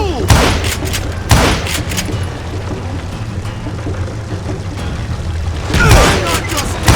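Gunfire in the Western shooter game Call of Juarez Gunslinger, a few loud sharp shots spaced a second or more apart over a busy background of in-game voices.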